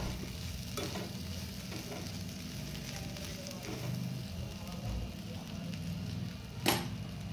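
A spoon stirring an instant lemon and green chilli pickle mixture with coarse peanut powder in a pan, soft scraping strokes with a light sizzle and a sharp clack near the end, quiet throughout.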